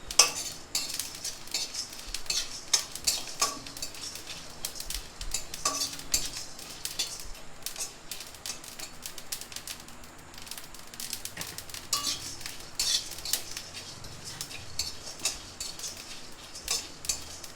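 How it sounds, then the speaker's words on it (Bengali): Spices fry in a pan on a low gas flame while a metal spoon stirs and scrapes against the pan, giving repeated clinks and scrapes over a soft sizzle. "মশলাটা আমার প্রায় ভাজা হয়ে গেছে"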